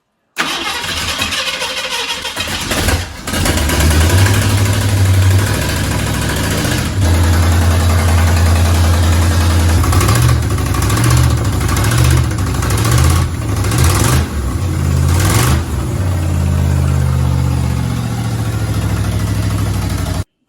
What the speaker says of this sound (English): we're about to hit the starter for the first time on this roller motor